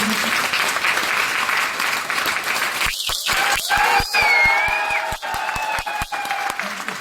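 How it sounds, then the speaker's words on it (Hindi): A seminar audience at a trade centre applauds loudly in a sustained burst, while a few sharp, close individual claps and some background music carry through the middle. "एक बार जोरदार तालियां।"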